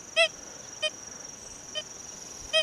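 Deus 2 metal detector with an 11-inch coil in an air test over a dime, giving short nasal beeping target tones, four separate chirps of varying loudness over a steady faint high whine.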